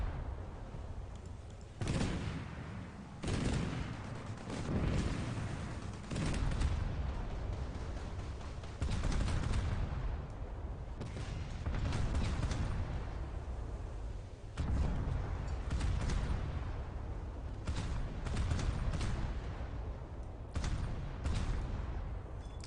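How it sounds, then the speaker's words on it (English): Warships trading naval broadsides in a warship battle game, including a Japanese Akizuki-class destroyer, heard as repeated heavy booming gun blasts at an irregular rhythm, muffled and fairly distant, layered over a continuous low rumble. "Start trading broadsides with the Akazuki."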